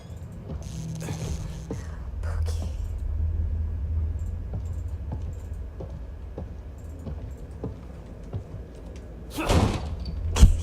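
A door in the video game The Evil Within 2 bangs and rattles, with scattered mechanical knocks over a low hum, then a loud slam near the end.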